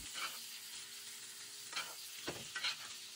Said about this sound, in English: Gently tip the skillet towards me and start butter basting the steak.